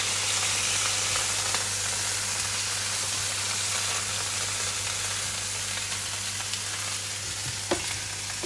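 Involtini browning in a pan give off a steady, fairly quiet sizzle and hiss with a few faint clicks, continuous throughout with no voices.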